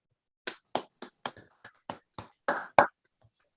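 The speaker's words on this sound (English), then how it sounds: "let's do a round of applause" During an online wildlife society chat, someone claps about a dozen separate, sharp, evenly spaced times near a microphone, each clap crisp and isolated against silence, with no talking.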